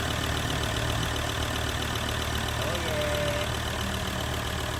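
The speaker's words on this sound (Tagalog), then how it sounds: "ngayon i-observe natin yung andar ng engine na wala na siyang fuel knocking at hindi na nagkurog-kurog" A car engine idles smoothly after a fuel knocking fault is fixed by replacing a part, a loud steady continuous drone with no knocking, recorded close and alone.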